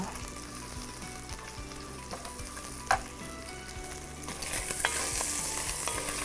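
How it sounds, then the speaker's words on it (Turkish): Rice with caramelized onions being lightly toasted in a pan, a soft continuous sizzle with rhythmic spoon scrapes and one sharp clink, growing slightly louder toward the end, no talk. "Şimdi bunu hafif kavuracağım."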